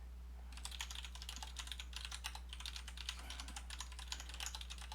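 Rapid continuous typing on a computer keyboard while writing JavaScript code, a dense run of light clicks with a few brief gaps over a low electrical hum, no talking.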